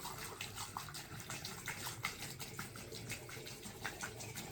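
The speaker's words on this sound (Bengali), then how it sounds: "তেলটা দিয়ে নিব যতটুকু প্রয়োজন" Oil pours into an AUTOOL CT150 injector cleaner machine's reservoir, a soft continuous liquid trickle and gurgle, faint and steady throughout with no talk.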